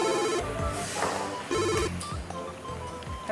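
A mobile phone rings in repeated electronic bursts, close and fairly loud, each short trill pattern returning about every second and a half, with quieter background sounds between rings and no talking.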